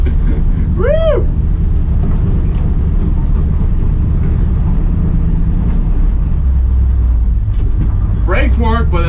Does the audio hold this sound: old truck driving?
yes